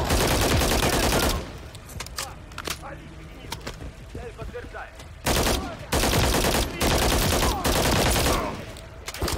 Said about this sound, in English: I'm taking fire from the bridge.